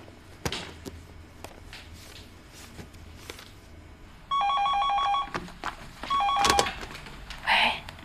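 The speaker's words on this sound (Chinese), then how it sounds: "打个电话。" A telephone ringback tone sounds while a call is placed in a police drama scene, two bursts of repeated electronic ringing after quiet rustling and footsteps, close and clear.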